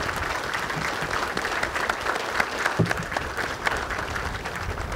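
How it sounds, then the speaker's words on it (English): Sustained applause from a crowd at a military assumption-of-command ceremony, steady and dense clapping throughout with a few sharper claps standing out. "And how about another round of applause for all of them?"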